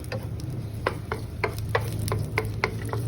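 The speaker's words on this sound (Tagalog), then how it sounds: "Just a little oil, and then gonna saute the garlic" Garlic sautéing in a little oil for a ginataang canned tuna dish: a steady soft sizzle broken by irregular clicks and scrapes of stirring in the pan.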